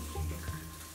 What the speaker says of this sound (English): You might hear some popping and the oil might pop, sort of like with popcorn.